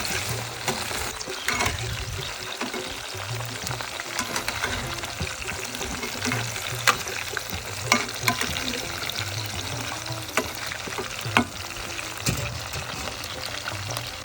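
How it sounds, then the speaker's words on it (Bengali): Chopped pointed gourd frying in hot oil, a steady close crackle and hiss running throughout with occasional louder pops and low clatters of the pan. "তেল গরম হয়ে গেছে কেটে রাখা পটলটা ভেজে নেব সুন্দর মতন ভেজে নেব"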